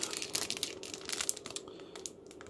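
A plastic bag holding the clear parts of a Fujimi Honda Civic EK9 Type R model car kit crinkles and rustles close by in quick, irregular bursts of crackling.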